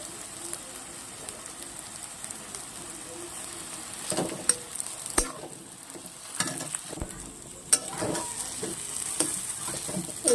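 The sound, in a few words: potatoes frying and stirred with onion and chili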